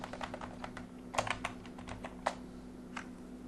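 Fingers typing on a computer keyboard in a rapid, uneven run of light clicks with a few firmer key strikes, heard close over a low steady hum.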